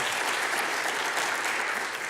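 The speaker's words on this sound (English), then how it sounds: "How about a big round of applause for Crescent Crown?" Audience applause at a meeting hosted by a distributing company, steady clapping from a crowd of listeners filling the whole stretch at moderate level with no talk over it.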